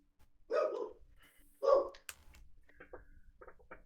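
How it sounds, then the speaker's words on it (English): A dog barks twice, loud and distinct, followed by fainter, scattered yips and small noises in a quiet background. "Do you hear that dog too?"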